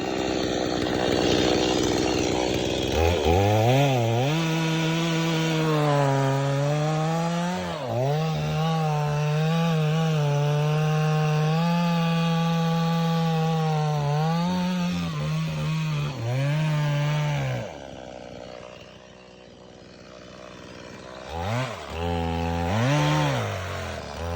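A chainsaw cuts wood while land is cleared for building, its engine revving up and down in long, wavering surges and dropping briefly between cuts. It is close and loud, with no talking.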